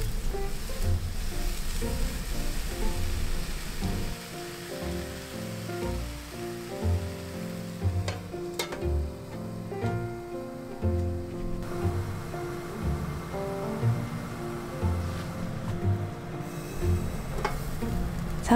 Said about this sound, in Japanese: 3分焼いたらひっくり返して、今度は蓋をして2分蒸し焼きにします